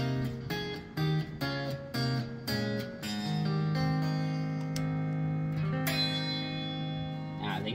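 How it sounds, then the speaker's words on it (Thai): Clean electric guitar through a BOSS ME-80 multi-effects unit playing a series of plucked chords and single notes, ringing clearly with some sustained notes, no distortion. "อันแรกเป็นเสียงคลีนนะครับเล่นเดิม"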